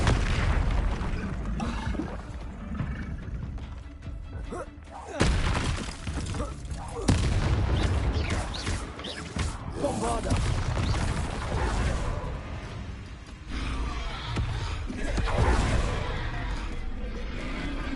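Fiery Confringo and Incendio spell blasts in Hogwarts Legacy, repeated booming bursts going off amid a loud, continuous battle din, with a voice talking at times.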